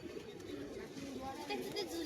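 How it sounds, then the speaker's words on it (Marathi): Pigeons coo softly at the Dadar pigeon house (kabutar khana) in Mumbai, low murmuring calls set in a busy wash of crowd and street noise, with faint chatter mixed in. "हे कबूतर खाना आहे दादर मधलं."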